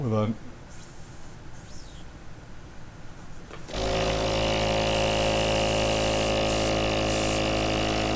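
A homemade airbrush rig hisses faintly at first, then at about four seconds it jumps to a loud, steady spray and motor hum that runs on to the end.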